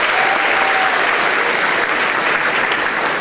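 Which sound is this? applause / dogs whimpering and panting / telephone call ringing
applause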